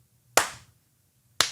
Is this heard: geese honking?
no